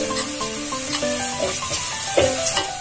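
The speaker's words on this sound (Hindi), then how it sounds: "उसमें ये नारियल डाल देंगे जो हमने रेत के ग्रेट करके ले लिया है और इसको हल्का सा भूनेंगे" Freshly grated coconut roasting lightly in a kadhai with green chillies, a steady soft sizzle with occasional scraping stir sounds, close and alone.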